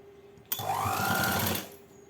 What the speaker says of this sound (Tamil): ஏக ஒரு தையல் ஓட்டிக்கிறோம்